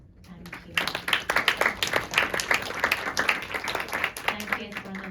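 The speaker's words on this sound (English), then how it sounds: "Could we give another round of applause?" Audience clapping at a panel discussion, a sustained round of applause that swells after a quiet start and stays steady and fairly loud throughout, with no talk over it.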